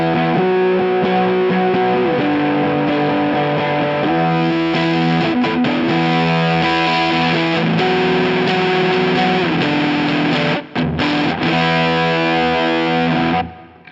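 Electric guitar through a Bearfoot FX fuzz pedal set with treble down and bass up, thick sustained fuzzy chords shifting every couple of seconds, loud and continuous, with a brief break near the end.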